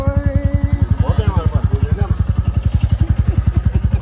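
A motorcycle climbs uphill on a ride near Lonavla, its engine thumping in a fast, even pulse from start to finish, loud and close, while a voice speaks faintly over it.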